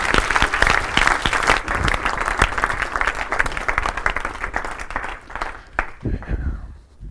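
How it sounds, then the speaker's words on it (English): A comedy audience breaks into loud, sustained applause, dense clapping that carries steadily for several seconds before it starts to thin and fade toward the end. "Give him a round of applause."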